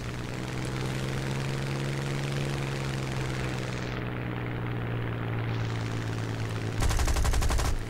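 Aircraft machine guns fire in War Thunder against a steady droning propeller engine. A dense, loud burst of rapid gunfire comes near the end.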